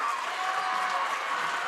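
An arena crowd at a high school men's basketball game, Nelsonville-York Buckeyes against Trimble Tomcats, cheers and applauds at the final buzzer. The noise is a steady, dense roar of clapping and voices that holds at one level throughout.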